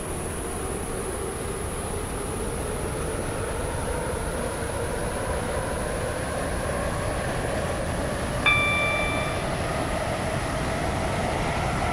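A two-coach WaterLine train on the Newry line runs steadily between stations, a continuous low rumble of wheels and carriage noise with a brief electronic chime near the end.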